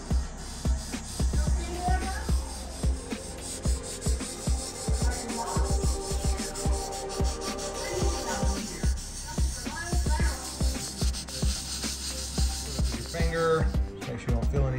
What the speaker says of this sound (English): Lightly sanding it, don't go through the nickel.